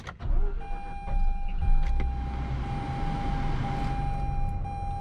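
A 2004 Mazda RX-8 with its 1.3-liter rotary engine cranks and fires up inside the car, then settles into a steady, buzzy idle with a faint whine, loud and close with no talking.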